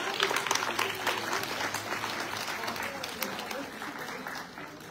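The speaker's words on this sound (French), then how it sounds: "on voudrait les remercier et les applaudir" An audience claps continuously at a Comorian women's craft fair, a dense, moderately loud round of applause that gradually fades, with a speaker's voice over it.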